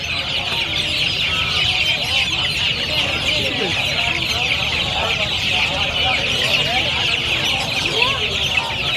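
Sonali chickens at a busy Chennai grocery market cluck steadily and loudly, with occasional crowing mixed in over a constant crowd murmur and faint talk.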